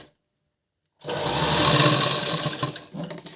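A sewing machine stitching a folded blouse hem starts after a second of silence and runs as a loud, close, continuous whirring rattle that wavers slightly toward the end.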